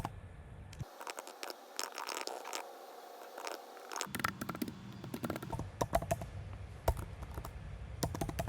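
Someone types on a computer keyboard while writing HTML, a close, quiet stream of irregular key clicks with short bursts and pauses, and no voices.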